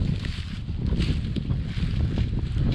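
Wind gusting across an open farm field beside a New Holland T8 410 tractor, a loud, steady broadband rush with buffeting bursts against the microphone throughout.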